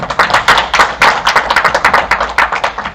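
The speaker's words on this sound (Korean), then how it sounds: "교수님 다시 한번 큰 박수 부탁드립니다" Sustained applause from a conference audience for a university professor, dense overlapping claps filling the room steadily and loudly throughout with no talking.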